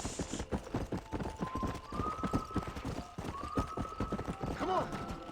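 Horse hooves clip-clop at a steady trot in the video game Red Dead Redemption, joined by a brief whinny near the end. Speech plays faintly underneath.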